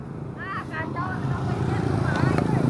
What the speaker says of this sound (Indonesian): Ini dia motornya.